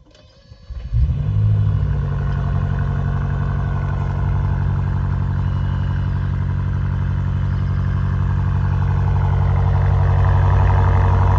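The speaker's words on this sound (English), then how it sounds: "The car's sound is also a plus, because it has a really nice, bassy rumble with a slight pop" A 2026 BMW M5 Touring engine starts after a second of quiet, then settles into a deep, bassy, steady rumble that continues close and loud with a faint rattle.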